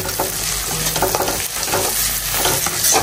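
Chopped onions fry in a pan at home, giving a steady loud sizzle with scraping stir noises throughout, close up and with no talking.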